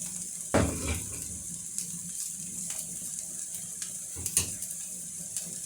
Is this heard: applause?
no